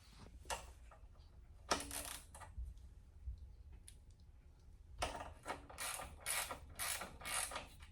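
A 10 mm wrench ratchets a clamp tight on a 1972 Super Beetle engine, with bursts of quick metallic clicking close by, a pause, then a longer run of rapid ticks.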